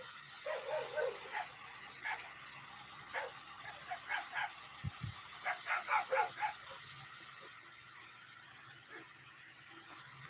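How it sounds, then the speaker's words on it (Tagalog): Several dogs bark and yip in quick, overlapping bursts, with scuffling growls and whimpers, a rowdy scuffle at moderate distance. "Nagano na sila, nagrarambol ng mga aso namin doon."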